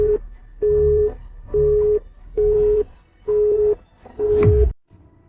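An unanswered phone call produces a telephone busy signal: five evenly spaced, loud tonal beeps with short gaps between them, followed by a brief clunk as the line cuts off, with no talk over them.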